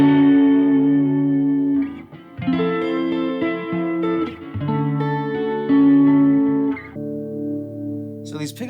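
Electric guitar, an inexpensive Strat copy played on its neck pickup through a tube screamer, Klon-type overdrive and chorus, rings out in sustained, shimmering overdriven chords and notes, loud and close with no talking.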